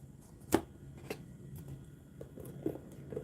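Cards are shuffled for a psychic card reading, giving soft, close riffling and tapping in a few scattered bursts with quiet gaps between, with no talking.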